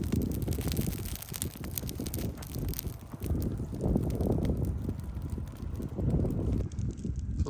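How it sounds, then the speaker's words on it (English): Steady gusting wind roars across an outdoor microphone, rising and falling in low rumbling surges throughout, with no voices. "I'm supposed to have some gusts up to 15 today."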